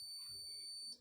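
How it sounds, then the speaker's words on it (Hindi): A continuous high-pitched electronic buzzer tone held for about a second before cutting off abruptly, like a multimeter continuity beep. "ये आपको बज़र का साउंड सुनाई दे रहा है इसके अंदर"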